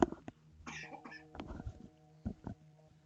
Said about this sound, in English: Sorry, just gonna cough.